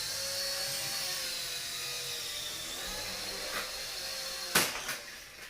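A Silverlit toy remote-control helicopter flies with a steady high rotor whine and motor buzz, close and continuous, ending in a few sharp knocks as it lands or bumps.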